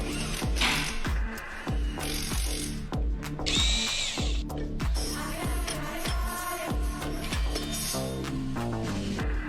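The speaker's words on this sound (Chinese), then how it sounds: "接下来就是拆螺丝" Power drill whirring in repeated short bursts as screws are backed out of a Rolls-Royce during repair work, each burst punctuated by quick stops and mechanical clicks, close and loud with no talk.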